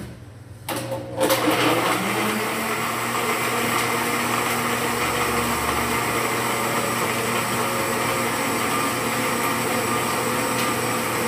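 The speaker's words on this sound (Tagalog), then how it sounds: "blender na natin" A blender making kiwi, lime and mint juice kicks on after a short pause and whirs loudly and steadily, its motor holding a constant high-pitched drone.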